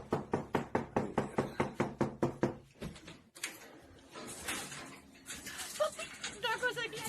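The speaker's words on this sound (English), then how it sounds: "Es la segunda vez que se escucha que están tocando." Repeated knocking on a door from a played spooky video, a quick run of about a dozen evenly spaced knocks, then a pause and muffled shuffling, voices and movement.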